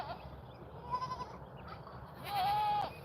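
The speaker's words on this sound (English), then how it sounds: "I don't know why he be wanting to bother my goats." Goats bleat twice, a short wavering call followed by a longer, louder one, over faint background noise.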